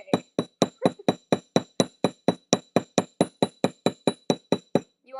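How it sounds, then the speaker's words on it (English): Hammer striking a metal jewelry blank on a bench to texture its surface, about twenty sharp ringing metallic blows in a steady, even rhythm, close and loud with no talk. "All right, hammering away."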